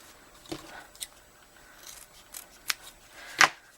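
Scissors snipping ribbon bow tails into a dovetail cut, a few sharp separate snips spaced irregularly, the last one loudest, close by with no talking.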